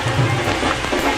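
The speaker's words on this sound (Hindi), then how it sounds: "क्योंकि काफ़ी तेज़ बारिश है लगातार" Heavy, steady rain pours down during a pilgrimage trek at Nagdwar near Pachmarhi, a dense unbroken hiss of drops hitting surfaces that fills the whole moment at a loud, even level.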